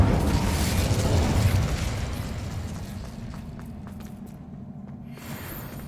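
A fire spell cast in Hogwarts Legacy bursts out as a loud, rumbling whoosh of flame that gradually fades into a lower crackling roar with faint clicks.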